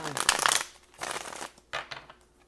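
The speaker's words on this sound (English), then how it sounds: "We'll do one more shuffle" Tarot cards being shuffled in several quick riffling bursts, close up, with brief pauses between them.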